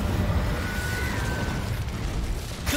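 Incendio fire spell cast in the video game Hogwarts Legacy, a loud, close, rumbling whoosh of flame that holds steady for a couple of seconds before ending in a brief crackle.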